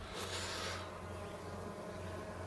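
Honey bees hum and buzz from an opened 10-frame hive brood chamber, a close, steady drone with a louder burst of wingbeats near the start that then settles into an even hum.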